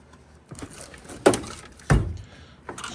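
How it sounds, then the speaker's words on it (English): Drawers of a Craftsman tool box slide open, giving a few separate thuds and sliding clunks, close and fairly loud, with no talking. "Some of the drawers open a little easier than others."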